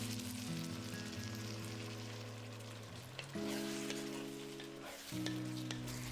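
Eggplant with minced meat is stir-fried with a poured-in sauce. A soft, continuous sizzle plays under prominent background music, with a couple of brief stirring bumps.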